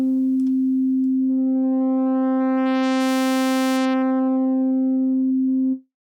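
A loud, steady virtual analog synthesizer oscillator tone in UVI Falcon 2 holds one pitch while its timbre brightens into a buzzy, harmonic-rich sweep and then mellows before cutting off abruptly.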